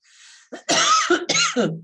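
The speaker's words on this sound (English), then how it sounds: "Still have some cough left over." A few harsh coughs follow a short breathy throat sound, close and fairly loud, bunched together within about two seconds.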